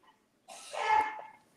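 A single sharp sneeze bursts out in a room during a lively soccer World Cup watch party for Spain versus Argentina, fairly close and loud, preceded by a brief quiet moment.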